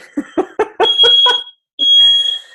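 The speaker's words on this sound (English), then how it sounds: "My fire alarm's going off." A fire alarm sounds indoors, loud and close: a run of sharp electronic beeps, then a steady piercing tone that cuts out briefly and resumes.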